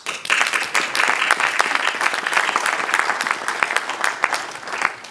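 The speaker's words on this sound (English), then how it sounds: "I invite you to clap for ourselves." Audience applause fills a hall at an engineering students' conference, a steady dense wash of many hands clapping with sharp individual claps standing out, close and sustained for several seconds without speech.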